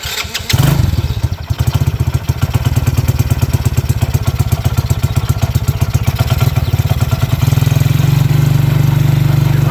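A gasoline engine on a power washer with valve issues and freshly adjusted carburetor settings sputters to life after a brief pause, then runs loud and close with a rapid, steady chugging pulse until the end.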